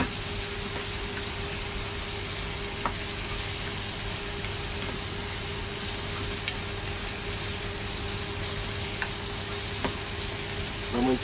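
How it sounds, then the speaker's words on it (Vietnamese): Pieces of eel stir-fry with lemongrass and turmeric in a pot over high heat, giving a steady close sizzle with faint scrapes of stirring and no talk. "Mình để lửa lớn các bạn, lửa lớn nó mới đủ sức nó săn cái lươn"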